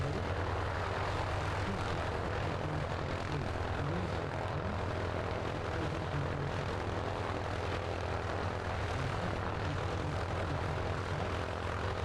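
An aerobatic aircraft performing at an air display produces a steady, unbroken engine roar at moderate distance, a constant drone with no talking heard.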